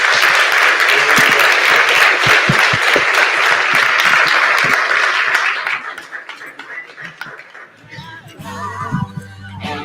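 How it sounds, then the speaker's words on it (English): A sustained round of applause from an audience at a faith community panel, loud and dense for several seconds before thinning out, followed by faint music entering at the end. "Please give them a round of applause."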